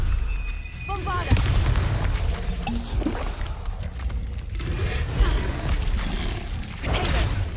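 In Hogwarts Legacy, the Bombarda explosion spell sets off deep booms with whooshing bursts among game effects, while a player's voice is heard over the action.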